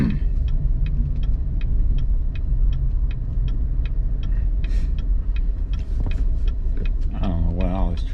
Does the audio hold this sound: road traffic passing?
yes